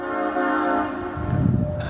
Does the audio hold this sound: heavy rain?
no